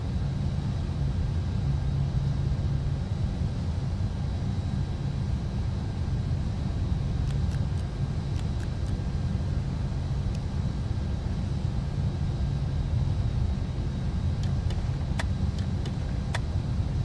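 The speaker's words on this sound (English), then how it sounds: "Cockpit to ground. We have a good engine start." Steady, roaring Boeing 747 jet engines in a flight simulator game hum at a constant level throughout, with a deep, dense rumble and occasional faint high clicks over the top.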